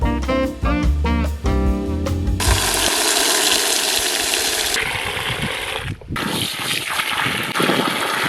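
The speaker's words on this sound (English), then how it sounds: "Now I've got my high pressure outdoors tap." High-pressure outdoor water tap at an off-grid renovation running strongly during washing up, a loud continuous rushing spray that shifts in intensity, after a burst of clattering at the start.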